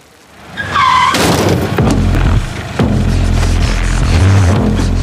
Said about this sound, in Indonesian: sebuah mobil tiba-tiba datang dan menabrak Alex